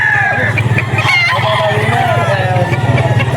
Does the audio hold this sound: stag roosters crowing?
yes